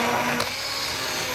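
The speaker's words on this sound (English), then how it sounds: "Now I'm just going to blend it with my hand blender." A hand blender whirs steadily as it purées a pot of cream of tomato soup, a loud and continuous motor drone with no talking.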